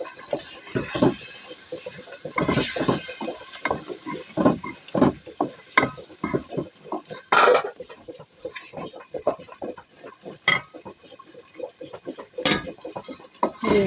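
Chicken pieces fry with ginger and chilli spices in a pan, stirred in repeated scraping strokes over a soft sizzle, each stir a sharp close burst.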